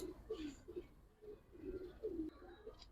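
A male Jabra Khaki pigeon coos softly in a string of short, rounded, repeated calls with brief gaps, quiet and fairly close.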